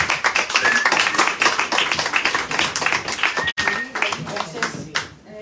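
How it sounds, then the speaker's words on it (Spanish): A small audience claps for a poet at a reading event, close, distinct hand claps in a quick irregular patter that break off briefly, then resume more sparsely as a voice begins over them. "un aplauso para Elizabeth"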